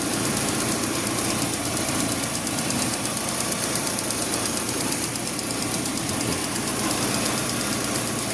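A car engine idles steadily with the air conditioning switched off, a constant close rumble with a faint rhythmic ticking, running alone without voices.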